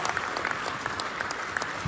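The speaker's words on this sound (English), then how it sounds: "Can we give that a round of applause, Poland?" Audience applause fills the room at a leadership training seminar in Warsaw, Poland, a dense, steady wash of many hands clapping at close range for the full stretch.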